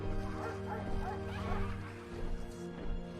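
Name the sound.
dog barking fading into the distance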